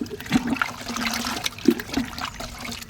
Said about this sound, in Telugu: ఇందులో 2 లీటర్ నీళ్ళు వేసుకుందాము.